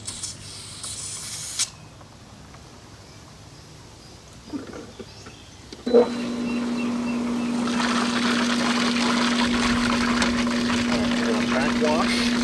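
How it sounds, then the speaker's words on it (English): A pool filter pump backwashing, quiet hiss at first, then a loud steady rush of water and pump drone with a constant hum kicks in and carries on; a voice is heard briefly early on. "That's backwashing."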